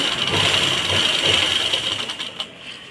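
A sewing machine runs steadily, stitching fabric at a joint with a continuous close whirring, rattling hum that fades slightly near the end; no one speaks.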